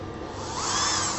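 A power drill runs steadily with a high whirring whine that builds slightly louder, a short continuous burst with no talking.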